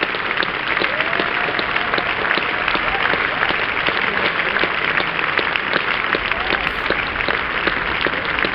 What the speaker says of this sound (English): they're standing up all around Hove and applauding.